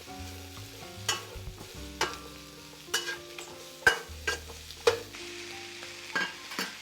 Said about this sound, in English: you add the vegetables. And again, you keep stirring it.